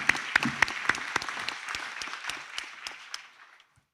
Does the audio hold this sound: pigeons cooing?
no